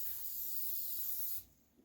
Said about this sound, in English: you want to spray on the back of the quilt